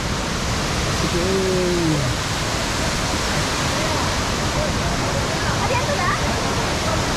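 Powerful, continuous roar of Bheemeshwara waterfall in the Karnataka forest close by, filling the whole clip, with faint voices buried beneath the rushing water.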